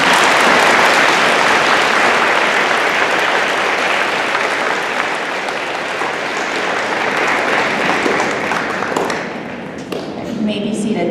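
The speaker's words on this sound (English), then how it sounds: "Can we give these students a round of applause?" An audience at a middle school eighth grade ceremony applauds honor roll students, a loud sustained round of clapping that fills the room, fading slightly near the end.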